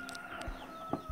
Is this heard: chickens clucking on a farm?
yes